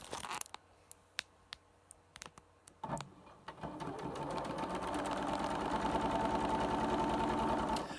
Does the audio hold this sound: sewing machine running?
yes